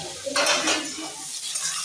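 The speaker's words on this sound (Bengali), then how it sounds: "এবার আমি নেড়ে দিচ্ছি।" Vegetables for a dry shukto, with ridge gourd and drumstick, frying in a pan as a spatula stirs them, bursts of scraping and loud sizzling in two quick strokes, close and without talk.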